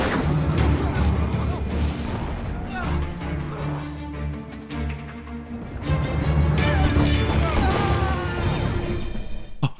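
Cannon barrage in the TABS battle game: dense, continuous booms and crashing impacts pile up with chaotic battle noise under a voice talking.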